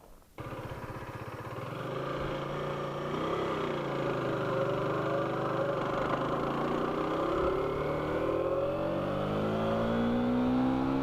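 An Aprilia RS4 125 motorcycle engine drones steadily while riding, its pitch rising gradually as it accelerates, loud and continuous with no talking.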